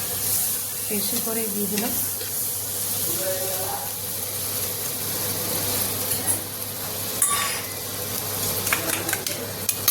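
Butter sizzling and melting in a hot pan for an egg roll, a steady hissing fry with occasional scraping stirs, while someone talks over it.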